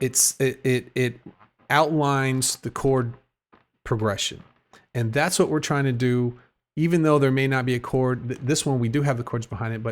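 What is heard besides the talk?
No everyday noise stands out behind the speech.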